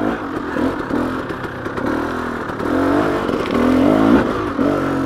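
A KTM 300XC two-stroke dirt bike climbing a steep technical uphill in first gear, close and loud with a raspy, fluctuating engine note, repeated throttle blips and revs, plus clatter and scrape from the terrain.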